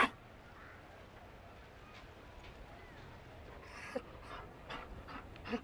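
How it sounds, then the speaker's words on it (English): A Mabari dog panting in Dragon Age: Inquisition, faint rapid breaths under quiet game ambience, with a few soft footstep-like thumps late in the clip. "You found a dog?"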